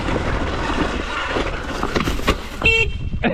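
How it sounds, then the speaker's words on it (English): A short car horn toot from a Nissan Skyline GT-R R33 sounds near the end, heard over loud wind and engine rumble outdoors on sandy ground. "You honked the horn."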